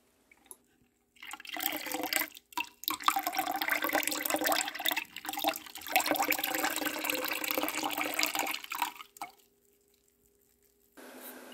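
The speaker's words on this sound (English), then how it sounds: "We're running it through a rather fine screen strainer." Raw apple cider pouring through a fine screen strainer, a splashing, trickling stream of liquid that runs steadily for several seconds with small gurgles, then stops, leaving near silence.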